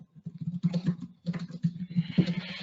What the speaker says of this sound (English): I'm just typing that.